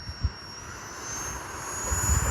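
A Freewing F-22 Raptor RC jet with an 80mm ducted fan gives a steady, rushing whine with a slowly rising high tone, fairly close, with no voices.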